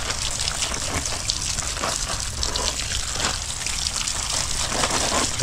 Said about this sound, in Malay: Bagi air dulu lah. Air ni kena bersihkan.